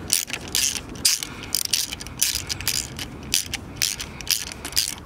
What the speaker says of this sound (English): I'm gonna take off this 10mm here.